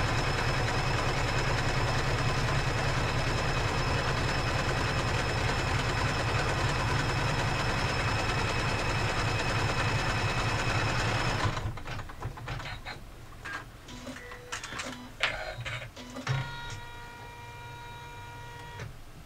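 Embroidery machine stitching a layer in the hoop for a double zip phone pouch: a loud, steady mechanical whir and rapid needle clatter that runs for most of the clip, then stops, leaving quieter intermittent clicks and taps.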